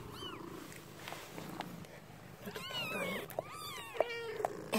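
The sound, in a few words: newborn kitten meowing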